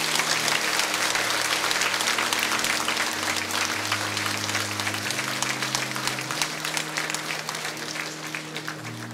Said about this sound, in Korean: 여러분 뜨거운 박수로 축하해 주시면 감사하겠습니다